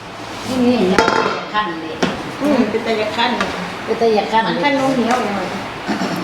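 Pizza dough lifted out of a metal pan in a home kitchen, with clanks and scraping clinks of the pan and utensils at close range while a person talks throughout.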